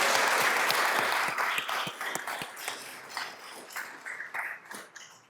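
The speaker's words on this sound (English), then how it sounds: "Please join me in a round of applause for our 20-year service award recipients." Applause at a city council meeting for 20-year service award recipients, a broad clapping wash that starts full and gradually thins and fades, with a few sharp isolated claps standing out near the end.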